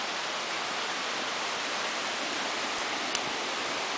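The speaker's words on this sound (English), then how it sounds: "Oh, there's waterfalls over there." A jungle waterfall roars as a steady, broad rushing wash of water, continuous and loud throughout, with no voices over it.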